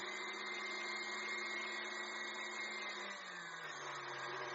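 A stand mixer kneading pizza dough with added salt and olive oil in a New York pizzeria kitchen, giving a steady, continuous motor whir with a constant pitch and no talking.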